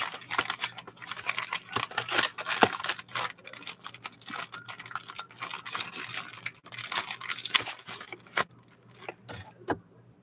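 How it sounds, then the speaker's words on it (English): Plastic food packaging is cut open with a knife in a home kitchen, giving close, crinkly rustling and scraping bursts with sharp clicks throughout. "This one here is sealed in plastic. So I'm going to use a knife to cut open."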